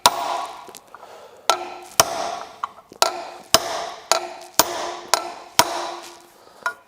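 A hammer strikes a punch about ten times to extract a broken screw. The close, sharp metallic taps come at a fairly regular rhythm, with short ringing decays between them.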